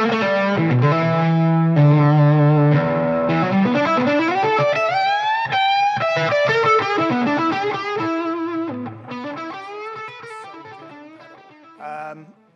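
Electric guitar played through an Xotic Soul Driven overdrive pedal, giving smooth, warm distorted tone; sustained chords and bending melodic lines ring loud and alone, fading out at the end.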